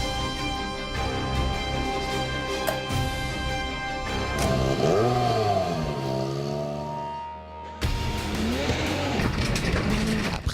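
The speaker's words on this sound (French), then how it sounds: "Brian Bouffier testa la Hyundai i20 WRC sur asphalte dans les Vosges." Hyundai i20 WRC rally car on an asphalt stage in the Vosges, its engine revving hard with rising and falling pitch, tires squealing through corners, then a sharp cut to another loud full-throttle run.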